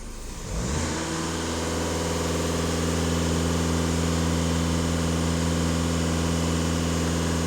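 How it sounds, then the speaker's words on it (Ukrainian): A Skoda Octavia A7 with the 2.0 TDI EA288 diesel engine climbs from idle to full throttle within the first second, then holds a loud, steady, droning high-rev note close by. "Але даю газ в пол, фіксуємо дані."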